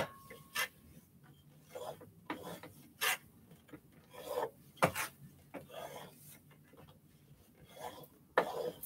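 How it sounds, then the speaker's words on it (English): A wooden seam press rubbed firmly over a pieced postage-stamp quilt top seam, giving short dry rasping strokes at irregular intervals, close and fairly quiet, with no talk. "And take the wooden press, rub it out."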